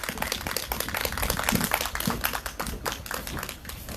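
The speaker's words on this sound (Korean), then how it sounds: "모두 큰 박수로 맞아주시면 고맙겠습니다." Audience applause greeting a singer at a candlelight rally stage event, a dense, steady clatter of many hands clapping throughout, fairly loud and continuous before fading slightly at the end.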